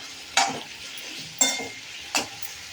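Eggplant and potato pieces fry in oil in a pan, giving a steady low sizzle broken by three sharp stirring scrapes and clinks at roughly even intervals.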